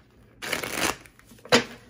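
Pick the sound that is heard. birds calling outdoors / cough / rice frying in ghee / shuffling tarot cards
shuffling tarot cards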